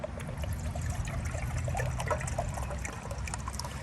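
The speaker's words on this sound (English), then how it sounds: "So you just open up the canteen and pour the water inside the cup." Water poured from a canteen into a cup, a steady close trickling stream with small splashy gurgles, continuous and moderately quiet.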